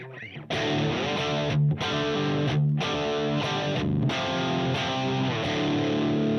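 A sustained, heavily overdriven electric guitar chord rings out, restruck several times with a thick, gritty tone.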